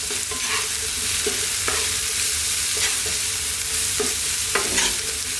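Eggplant and onions fry over medium-high heat in a pan, a steady loud sizzle broken by repeated scraping stirs of the spatula at irregular intervals.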